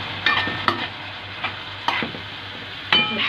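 Alexandrian-style liver with salt, cumin and dried coriander being stirred in a pan, a series of distinct spoon scrapes and knocks at irregular intervals over a low sizzle.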